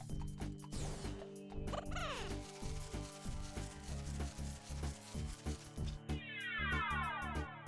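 A cartoonish cat meows repeatedly in the video game Corn Kidz 64, with several short pitched calls over bouncy music and clattery game effects, and a sweeping chime near the end.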